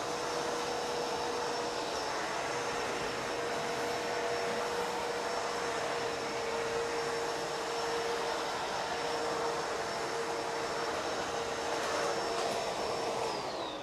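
A Bissell Pet Hair Eraser vacuum runs steadily with its brush roll spinning, a continuous even whine and airy roar holding at the same level throughout with no pauses.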